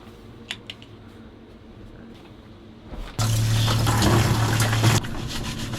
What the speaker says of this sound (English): I'm gonna go ahead and take a quick shower,